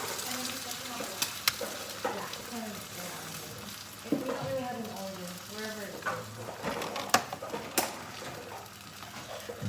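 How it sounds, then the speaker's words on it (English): An egg fries sunny side up in grass-fed butter, crackling and sizzling steadily at moderate volume with sharp pops, while birds coo faintly in the background. "I'm just gonna let it fry up."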